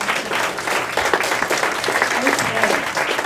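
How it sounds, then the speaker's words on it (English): Audience applause fills a room at a community education event, a dense steady patter of many hands clapping for several seconds with no break. "So, applause, Kelly."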